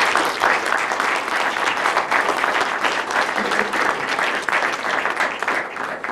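Conference audience at an international opening session applauding, a dense, steady wash of clapping that stays loud and unbroken for several seconds.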